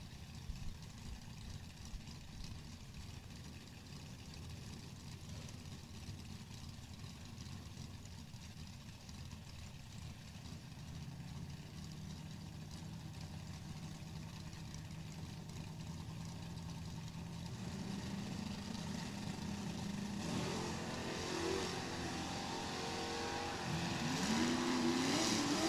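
At a drag race, an Oldsmobile and a 1969 Camaro sit idling in their lanes, a distant, low rumbling engine drone that slowly grows louder, rising into sharper revving near the end.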